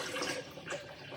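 Water poured in over seeds in a blender jar to make plant milk, a short soft pouring splash heard alone.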